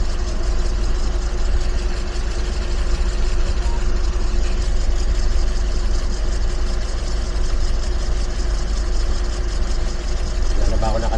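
A 28-year-old van's engine idles steadily and quietly, a low continuous hum with a faint mechanical whine, heard close up and unchanging throughout.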